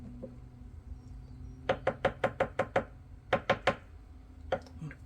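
A spoon stirring homemade sultana vinegar inside a glass jar, giving two quick runs of sharp, evenly spaced clinks against the glass followed by a few scattered taps, heard up close.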